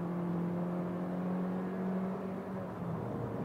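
A 4WD automatic car accelerates hard to overtake, its engine holding a steady, loud drone with a strong low tone throughout, no voices over it.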